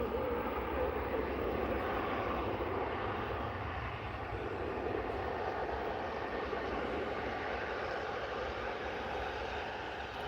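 A Loganair airplane passes at Manchester Airport, its engine roar a steady, loud broadband drone that holds throughout with no speech over it.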